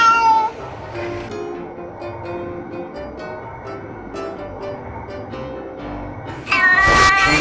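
A house cat meows a few times, fairly close, over a low background, ending with a louder, harsher yowl.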